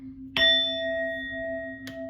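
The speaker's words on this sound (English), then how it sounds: "We're going to hit this bell." A bell is struck once to cleanse tarot cards and gives a clear ringing tone that lingers and slowly fades. A faint second tap comes near the end, with no speech.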